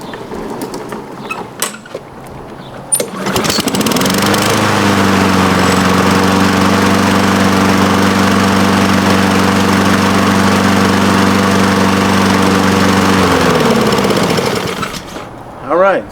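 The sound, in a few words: Honda lawn mower engine test start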